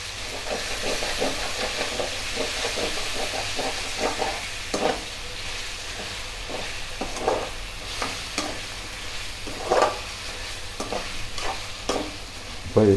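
Ginger garlic paste frying in a karahi for chicken karahi, a steady sizzle broken by repeated scraping stirs and a few sharper spatters.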